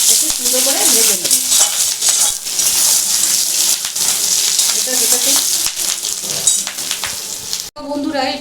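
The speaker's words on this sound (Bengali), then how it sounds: "একটু সুন্দর করে ভেজে নেব।" Fish roe dhoka pieces fry in a wok with a loud, crackling sizzle, broken by scattered clinks and scrapes of a utensil and a sudden cutoff near the end.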